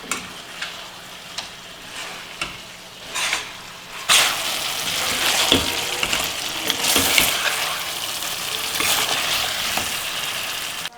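Chicken pieces coated in masala fry in a little oil, a hissing sizzle that swells loud and steady, with scraping stirs and the clatter of a spoon against the pan.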